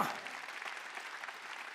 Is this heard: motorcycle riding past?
no